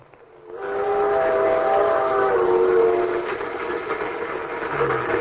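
A ski train in an old-time radio drama sound effect sounds a sustained, chord-like steam whistle over a rolling rail rumble. The whistle fades as the train noise continues, and a lower tone sounds near the end.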